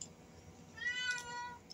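A pet kitty meows once, a drawn-out, rising-then-falling call over a steady low room hum, fairly close and alone without talk.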